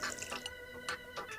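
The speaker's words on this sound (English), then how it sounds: "so now we will need to add some water" Water being added to a homemade slime mixture of glue, with a few close, soft drips and splashes in a quick uneven run, no talking.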